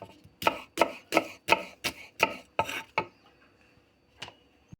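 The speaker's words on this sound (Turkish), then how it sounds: "Bakın canlarım şimdi türlümüzün balcanı doğruyoruz." A knife chops eggplant rapidly on a cutting board, about eight quick even strokes, then a pause and one last cut.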